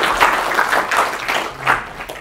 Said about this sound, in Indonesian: dan kita berikan aplaus yang meriah